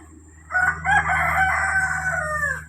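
A rooster crows once, loud and close, a single sustained call of about two seconds, in a flock that includes a white native hen, Andalusian and Rhode Island Red chickens.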